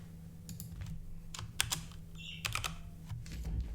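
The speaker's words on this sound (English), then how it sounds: "Let's actually finish typing this." Fast typing on a computer keyboard, with irregular bursts of clicky keystrokes over a steady low background hum, close and moderately loud, no voices.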